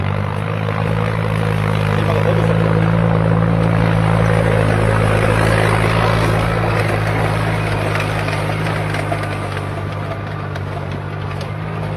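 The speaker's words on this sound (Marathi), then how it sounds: "हे बघा अठ्ठावीस एच पीचा ट्रॅक्टर आहे आणि तो मोकळा बसतोय ऊसाच्या सरीमध्ये" A VST 929 DI EGT 28 HP tractor with big tyres runs between sugarcane rows, its engine giving a loud, steady drone with a strong low hum throughout and no pauses.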